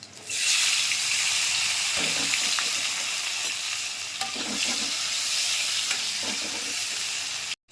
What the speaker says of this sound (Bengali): এবার পেঁয়াজ আর টমেটোটা ফোড়ন দেবো